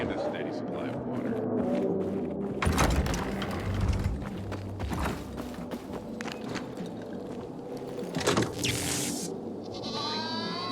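Goats bleat repeatedly by a goat pen near a wall in the video game Dying Light 2, amid a busy mix of background noise and footsteps, with voices talking throughout.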